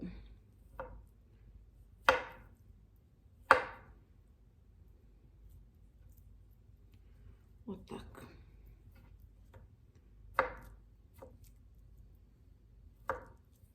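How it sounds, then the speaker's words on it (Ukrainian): Carrots being cut into small cubes with a knife on a board for an Olivier salad: a handful of sharp, separate chops at an uneven pace, close and clear over a quiet room hum. "І все буду так почергово різати такими квадратиками."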